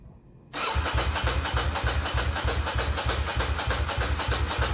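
Custom motorcycle engine with straight-through exhaust pipes firing up after a quiet moment, then a loud, close, rapid rhythmic chugging idle that stays steady to the end.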